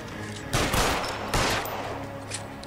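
Gunfire in the video game LA Noire: two loud bursts of shots about a second apart, close and sharp, each trailing off into echo, with no talking.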